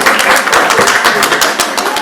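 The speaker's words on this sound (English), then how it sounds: "Let's give those folks a big round of applause." Audience applause from a crowd gathered for a final talk session, a short burst of dense clapping heard up close with no voices over it.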